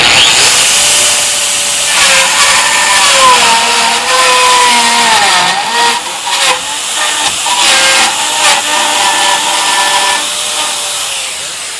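A Metabo weld shaver power tool making a second pass over a metal weld at the FABTECH 2021 trade show, a loud continuous whining motor with shifting pitch as it grinds, over busy hall noise.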